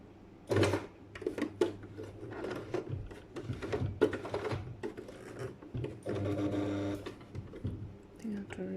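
Sewing machine stitching an accordion pocket, heard in short uneven bursts of mechanical clatter mixed with handling noise, partly under a person talking.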